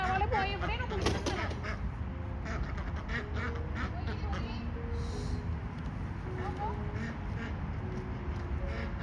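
Ducks quack repeatedly close by near a backyard pool made from a sheet at a house where trees are being cut, with a voice and other voices talking over the calls.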